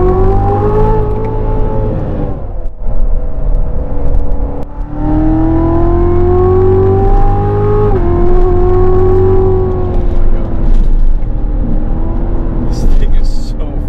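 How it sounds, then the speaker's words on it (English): A 2019 Chevrolet C7 Corvette Z06 with a manual transmission and supercharged V8 accelerates hard. The engine note climbs through loud, rising sweeps with brief dips between gears, close and continuous, with a voice speaking over it. "That supercharged V8 provides some absolutely incredible power, and it's so instantaneous."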